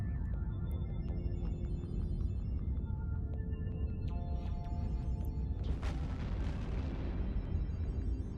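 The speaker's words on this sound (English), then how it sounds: "Okay, missiles out." Missiles launching in the EVE Online space game, a dense rumbling wash of explosive booms and bursts with scattered electronic blips and tones, continuous and loud throughout, no speech.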